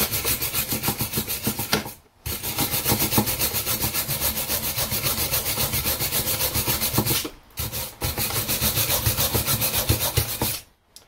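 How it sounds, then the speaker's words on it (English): A wire brush scrubs brake caliper parts on a 2012 Honda Civic in rapid, rhythmic back-and-forth rasping strokes, close and steady, broken by two short pauses. "I'm just going to clean these up as best I can with a wire brush"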